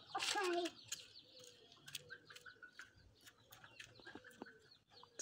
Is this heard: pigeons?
yes